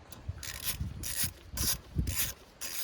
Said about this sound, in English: You can always use a little screwdriver adapter to ratchet, make things a little bit easier.